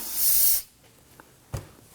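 A short hissing blast from an aerosol can of solvent sprayed onto a front brake caliper of a 2018-2024 Toyota Camry, loud and close for about half a second, followed by quiet with a small knock.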